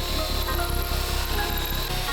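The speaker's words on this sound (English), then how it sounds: "We start off by drilling all the spot welds out around the roof." A steady, loud mechanical whir and grinding runs without pause as spot welds are drilled out around the roof of a BMW M2 being stripped into a track car, with no talk over it.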